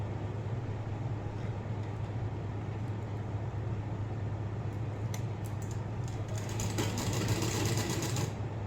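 A sewing machine runs steadily while stitching a blouse, giving a continuous mechanical whirr with a low motor drone, and faint ticks and clicks pick up toward the end.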